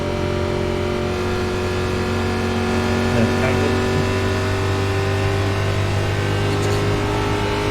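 A NASCAR Cup car in iRacing at Talladega drones steadily as its engine holds a high, even pitch while accelerating, with a slight rise in revs midway and no pauses.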